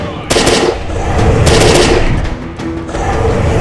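An STG-74 rifle loaded with AP rounds fires in a video game, with rapid, loud, continuous bursts of gunfire and booming echoes running through the whole stretch.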